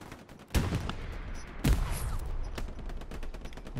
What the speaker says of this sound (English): Machine gunner's got me pinned down